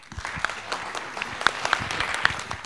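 Audience applause at a school assembly fills the room, a dense, even patter of many hands clapping at moderate volume with a few sharper claps standing out.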